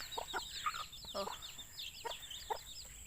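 Chickens cluck in short, scattered bursts on a rural Thai farm, close and fairly clear, with other birds twittering high in the background.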